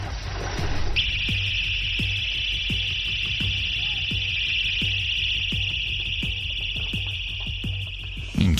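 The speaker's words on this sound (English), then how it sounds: "the victim used a handheld alarm to successfully scare the attackers off" A handheld personal alarm blares a steady, piercing high tone, loud and continuous for about seven seconds after a short noisy start, with a faint rhythmic pulse underneath.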